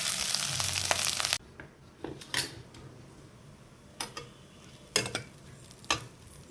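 Boiled sorghum grains being stirred in a pan of hot ghee with cumin seeds, giving a loud initial sizzle that settles into soft frying with intermittent scraping stirs.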